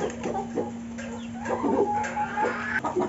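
Backyard chickens, including Barred Rock and Rhode Island Red birds, clucking softly and intermittently while pecking at silage feed, close by, with faint scratching sounds.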